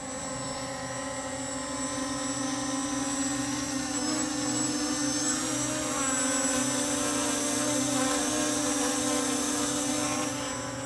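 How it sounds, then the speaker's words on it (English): An MJX Bugs MG-1 GPS camera drone hovers close by, its propellers giving a steady, loud, high-pitched whine with tonal harmonics that holds unbroken for the whole stretch, with no talk over it. "So there's the drone."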